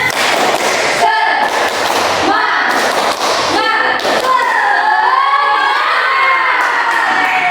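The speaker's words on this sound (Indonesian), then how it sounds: "Kita tepuk semangat." Students in a pencak silat class join a rhythmic spirit clap chant, with sharp claps in patterns, shouted voices and cheering, loud and close, ending in sung or chanted voices.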